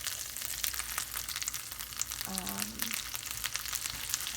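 Chorizo sizzles and crackles continuously in a pan, a close, even frying hiss with small pops throughout and a brief faint tonal squeak in the middle, with no talking.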